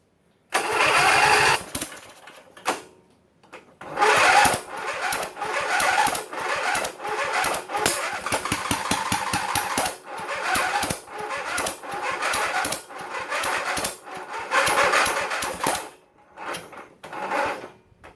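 A V-twin engine on a Sears GT18 lawn tractor with a choked carburetor cranks loudly and close up in long rapid churning bursts, with brief pauses between attempts and no voices.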